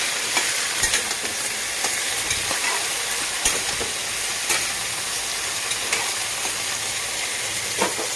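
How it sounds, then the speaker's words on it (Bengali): Fish and vegetables frying in a pan on a home stove, giving a steady close sizzle with occasional pops and faint stirring clicks throughout, no voices. "ভাজাটা ঢেকে দিচ্ছি"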